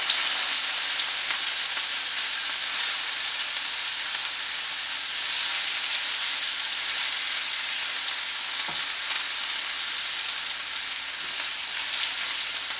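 Garlic sautéing in a pan over medium heat for Mexican rice, a loud continuous close sizzle with steady hiss and no talking throughout.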